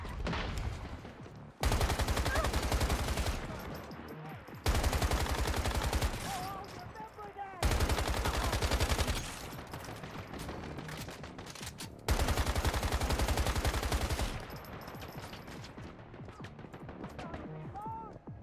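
Rapid automatic gunfire in the video game Once Human, coming in several long sustained bursts separated by brief pauses, loud and close, with some quieter background sounds between bursts.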